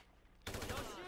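Gunfire in Grand Theft Auto 5: after a quiet moment, a sudden loud burst of rapid automatic shots kicks in and keeps rattling steadily to the end.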